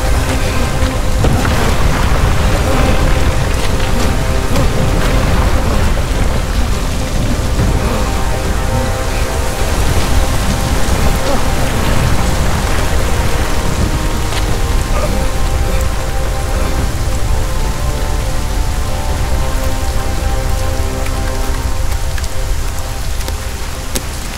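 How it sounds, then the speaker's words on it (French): Hail pelts down in a disaster scene from a film, a dense steady drumming and clatter of falling ice that stays loud throughout, with faint rumbling underneath. "Une grêle maintenant!"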